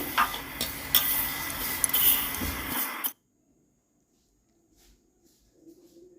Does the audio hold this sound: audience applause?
no